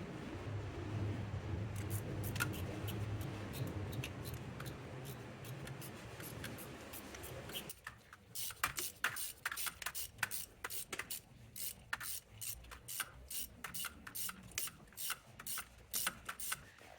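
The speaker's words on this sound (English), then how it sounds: "got the two starter bolts tightened" Ratchet tightening the starter bolts on a 2011–2017 BMW X3 F25 with an E14 socket, first a muffled grinding rub, then a long run of quick, faint clicking ratchet strokes close by.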